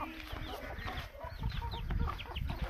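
Several chickens cluck and chirp softly nearby in a busy, overlapping chatter, with faint rustling and scratching underneath.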